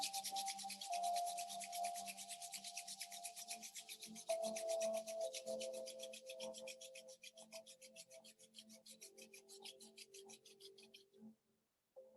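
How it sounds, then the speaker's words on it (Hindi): Palms rub briskly together in fast, rhythmic strokes during a ho'oponopono prayer meditation, close and steady for about eleven seconds over a soft sustained musical drone. "हाथों को रब कर लेंगे।"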